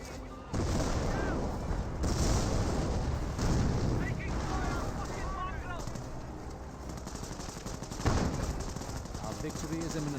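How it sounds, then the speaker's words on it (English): A Hotchkiss opens fire during a Company of Heroes 1 battle: dense, continuous gunfire roars alongside booming explosions in a loud, unbroken wall of combat noise. "Hotchkiss firing away"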